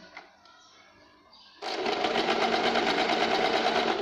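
A sewing machine runs a steady stitching burst along a seam of a simple katori blouse, starting abruptly after a quiet stretch with faint handling noise, then holding a loud, even mechanical whir close by.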